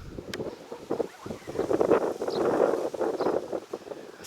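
Strong outdoor wind gusts over the microphone, rising and falling in rough surges of moderate loudness, with a faint clicking or bird-like sound in the background and no clear speech.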